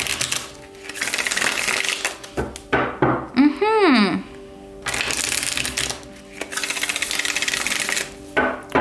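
Tarot cards are shuffled in repeated riffling bursts of crisp, papery rubbing and flicking that start and stop over several seconds, close to the mic. A voice briefly speaks with a rising, sung tone between shuffles.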